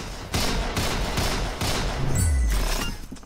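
Automatic gunfire in the Roblox game Arsenal comes in several rapid bursts of loud, crackling shots, ending in a short descending whoosh.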